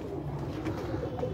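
Pigeons coo steadily in a low, soft murmur from a home loft of Teddy pigeons, continuous and moderately close throughout.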